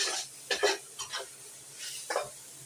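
Ginger is stirred in a hot pan for a seafood stir-fry, giving a few short scraping strokes with a light sizzle, quiet and close, no talking.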